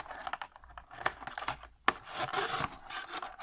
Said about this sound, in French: l'idée va être de faire passer le fil de fer à travers les trous qu'on vient de faire